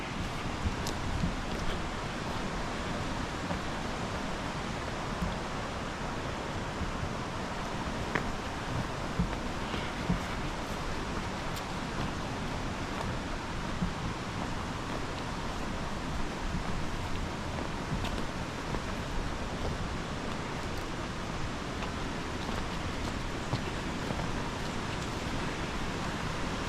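Running water in a ravine makes a quiet, steady rushing hiss that continues without a break, with soft outdoor rustle and no voices.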